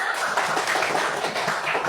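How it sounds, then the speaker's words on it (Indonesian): A class of schoolchildren claps together, a dense, steady patter of many hands that stays close and fairly loud throughout. "kalian tepuk tangan dulu bagi kita semua"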